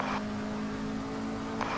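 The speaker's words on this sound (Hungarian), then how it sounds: "Autó jobb oldalon." Race car engine on the Nogaro circuit during a Cars Club race, heard from onboard as a steady, loud engine drone with a brief rise of another car at the start and end of the short stretch.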